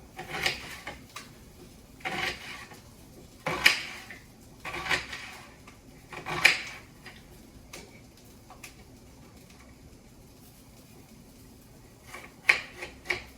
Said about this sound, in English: I'm just slicing just a few pieces of onion.